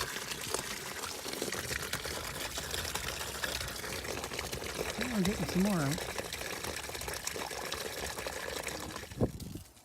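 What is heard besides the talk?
water running into car radiator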